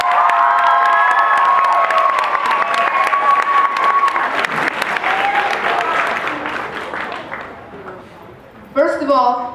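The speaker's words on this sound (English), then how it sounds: "let's give them a round of applause right now" A commencement audience applauds and cheers for the graduates' parents, a dense loud clatter of clapping with shouts that thins out over several seconds, ending with a voice over the dwindling claps.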